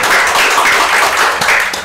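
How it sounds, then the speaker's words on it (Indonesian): A studio audience claps in a dense, continuous burst of applause, loud and even throughout, without voices. "apresiasi tepuk tangan yang paling meriah buat kami"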